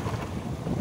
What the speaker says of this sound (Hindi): ये देखिए पानी गिर रहा है